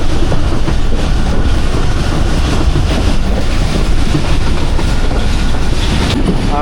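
The Hazara Express rolls slowly past, loud and close, with a continuous rumble and rhythmic clickety-clack of wheels over rail joints and a brief squeal near the end.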